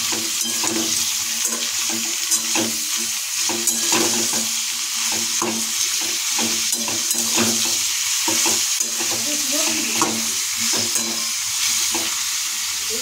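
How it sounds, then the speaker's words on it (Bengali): A spatula stirs mixed vegetables in a hot pan, giving steady close sizzling with repeated scraping strokes throughout and no talking. "লবণ যোগ করছি, তাই এবার খুন্তিতে সুন্দরভাবে এটাকে নাড়িয়ে নেব।"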